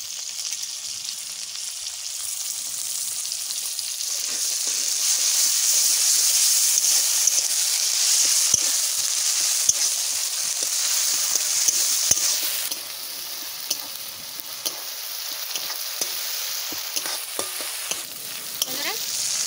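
Steady loud sizzling of ground spice paste frying in oil, with a spoon scraping and stirring through it in irregular clicks; no talking.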